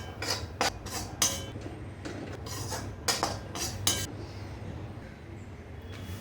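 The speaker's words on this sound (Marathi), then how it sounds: "पण आपल्याला एकदम मंद गॅसवरती भाजून घ्यायचं आहे" Semolina and gram flour roast in ghee in a pan over low heat for rava-besan laddoos, with a spoon clinking and scraping against the metal in quick bursts over a soft steady background.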